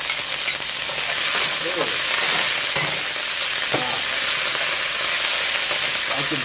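Garlic and chili pepper frying in a hot pan, a dense steady sizzle with occasional stirring scrapes and clinks, close up, with a brief exclamation from a voice.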